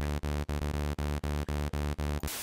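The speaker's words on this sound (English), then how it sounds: "here's my little hi-hat pattern." A synthesized hi-hat pattern built from noise on the Logic ES2 synth ticks along in an even, steady rhythm of short repeated hits with brief gaps, ending in a burst of hiss.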